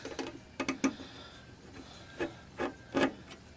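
Tiny screws being fitted back into a USB tester, heard as sparse, close, quiet clicks and scratchy taps of a small screwdriver and metal parts, separated by short pauses with no voices.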